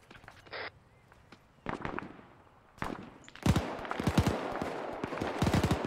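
Gunfire in the military video game Arma 3, scattered distant shots early on, then dense loud bursts of automatic fire from about halfway through, some rapid and sustained.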